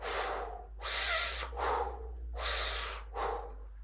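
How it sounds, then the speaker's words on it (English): Strong pursed-lip breathing during a spring equinox breathwork ritual, with air sucked in hard and blown out the same way, in four loud, close, rhythmic breaths separated by short pauses and no speech. "you can suck air in so strong that your cheeks come in. And then you breathe out the same way"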